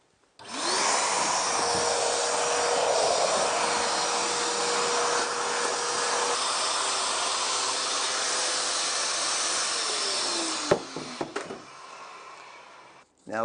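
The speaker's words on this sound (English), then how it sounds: "I'm just going to have a vacuum." A vacuum cleaner sucks up wood shavings on a woodworking bench, a loud steady whine and hiss running for about ten seconds before it is switched off and winds down, with a few clunks at the end.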